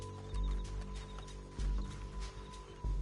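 Horse hooves clip-clop in the Red Dead Redemption 2 video game, a steady trot of soft low thuds beneath sustained game music.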